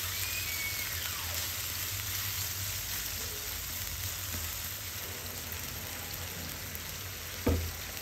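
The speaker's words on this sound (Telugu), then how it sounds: "ఇది పచ్చివాసన అంతా నీరంతా ఇంకిపోయేంత వరకు దాన్ని బాగా వేయించుకోవాలన్నమాట, వేపు చేసుకోవాలి." Prawn masala curry frying in a pan, a steady soft sizzle with faint stirring scrapes and a brief clink near the end, no voices.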